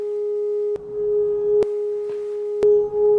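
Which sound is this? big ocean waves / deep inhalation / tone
tone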